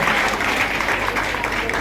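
Dense, steady applause from an audience at the Om Kala Kendra ceremony in Chhindwara for students completing their training, a brief unbroken burst of many people clapping.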